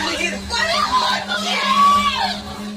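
Girl's screams and wails in a horror film scene about a possessed girl at a scout camp in a haunted forest, loud, continuous and strained over about three seconds, with a steady low hum underneath.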